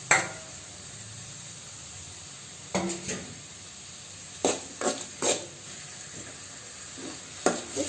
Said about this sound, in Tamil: நல்லா சும்மா சாதாரணமாக ஒரு 2 வதக்கு வதக்குனீங்கனாலே போதும்.